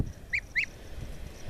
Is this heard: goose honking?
yes